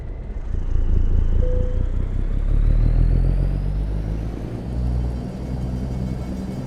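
A big orange semi truck in American Truck Simulator creeps forward a short distance, its diesel engine giving a steady, loud low rumble with a faint whine above, with no talking.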